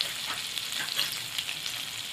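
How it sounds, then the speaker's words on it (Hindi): Ginger garlic paste fries with browned fenugreek seeds in hot oil for besan kadhi. The sizzle is close, bright and continuous, with light stirring. "मेथी हमारी ब्राउन हो गई है, अदरक लहसुन का पेस्ट हमने डाल दिया।"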